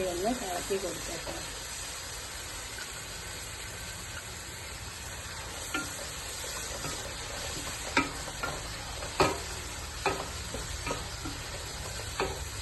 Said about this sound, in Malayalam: ഹൈ ഫ്ലെയിമിലായതുകൊണ്ടാണ് കേട്ടോ ഞാനിങ്ങനെ കൈ വിടാതെ ഇളക്കിക്കൊണ്ടിരിക്കുന്നത്